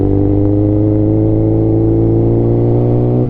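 A 2007 Suzuki GSX-R 600 motorcycle runs on the road, its engine a loud, steady, close drone that rises slightly in pitch as it pulls, then drops off at the end, with no talking.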